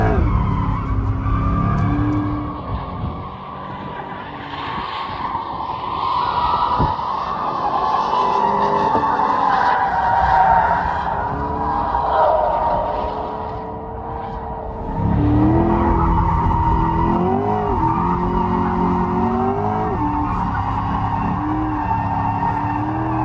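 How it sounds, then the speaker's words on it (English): A hybrid all-wheel-drive 2024 Chevrolet Corvette E-Ray drifting, loud sustained tire squeal and skidding over a roaring engine that rises and falls, with a fresh surge of revs midway. "Want to do some drifting?"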